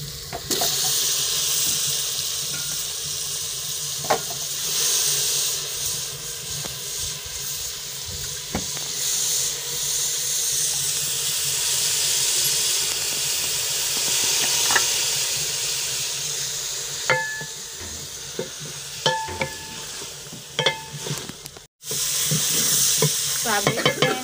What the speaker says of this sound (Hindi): तो इसमें मैं गोभी डाल देती हूँ।